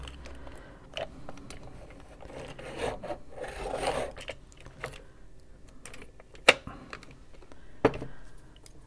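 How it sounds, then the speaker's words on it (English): Colored pencils being sharpened by hand: soft, close rasping and scraping in irregular bursts, with a couple of sharp clicks near the end and no talking. "I should just sharpen all of these because those are kind of thin."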